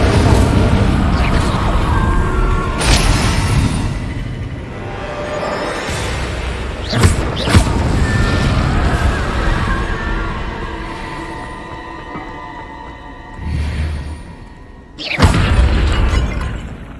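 Spells are cast in the Hogwarts Legacy video game, with the Incendio fire spell blasting in loud bursts and pops over a dense, roaring game soundscape. Sharp cracks land near 3, 7 and 15 seconds.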